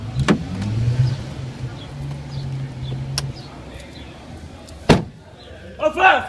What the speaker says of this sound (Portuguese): vou fechar aqui o carro